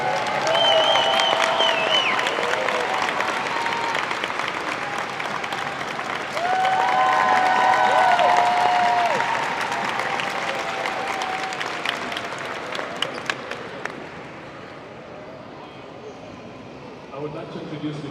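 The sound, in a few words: crowd applause for Natalia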